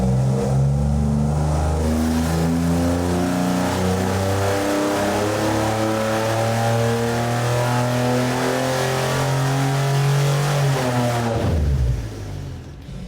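An old-school Chevy 4.3L V6 on an engine dyno revs hard through repeated rising pulls, loud and close with a harsh mechanical roar, before cutting off abruptly near the end, no talking.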